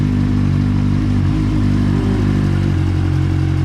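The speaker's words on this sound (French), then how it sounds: "Et là, petit coup de démarreur." A motorcycle engine starts up after maintenance and runs loud and close with a steady low rumble and a slight rise in revs partway through, no voices.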